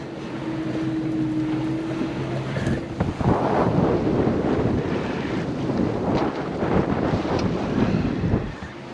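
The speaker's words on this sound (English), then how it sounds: "That's a nice breeze we have now." Wind sweeps across a sailboat moving at about six knots, a steady loud roar buffeting the microphone over the wash of water, with no one talking.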